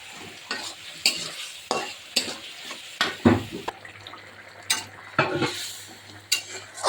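Spices with dried chilli powder stirred and fried in a pan for Bengali home cooking: a close run of scraping stirs with a steady sizzle beneath, repeating in uneven strokes.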